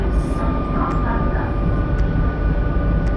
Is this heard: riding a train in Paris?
yes